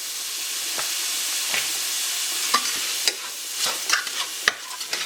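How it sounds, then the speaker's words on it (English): Spiced, salted meat is stirred in a hot pan for mustard leaf cabbage rolls, a constant loud sizzle broken by several close scraping strokes of the spoon, with nobody speaking. "And I'll stir that around in the meat here."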